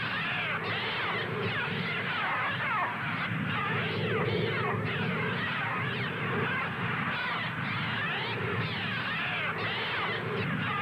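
Harsh crow-like cawing builds into a dense, unbroken chorus of overlapping bird calls, from a TV promo for Hitchcock's The Birds. The calls are moderately loud and heard alone, with no voices.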